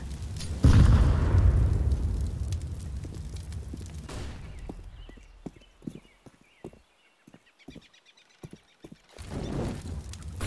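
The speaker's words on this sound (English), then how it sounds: "Grenade out." Grenade explosion in CS:GO on the Inferno map, a heavy boom with a long decaying rumble, then sparse clicks and footsteps before more noise builds at the end.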